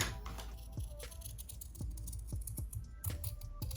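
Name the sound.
cutting fabric wing pieces along the edges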